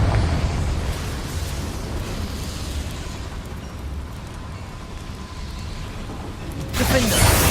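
A Confringo blasting spell goes off in the Hogwarts Legacy game, a dense rumbling blast that holds steady for several seconds under game ambience before a brighter, louder burst swells near the end.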